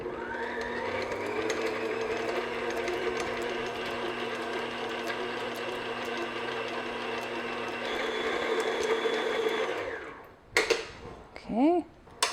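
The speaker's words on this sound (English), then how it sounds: "I'm just going to start by mixing the butter just until it's creamy and smooth" An electric mixer beating butter until creamy and smooth, a steady loud mechanical whir with a constant hum that runs for about ten seconds before stopping, followed by a few brief clinks.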